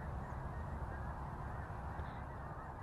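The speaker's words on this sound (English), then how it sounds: "We've got a whole bunch of snow geese," A flock of snow geese honks far off over a field, a faint continuous chorus of calls under a steady background hiss.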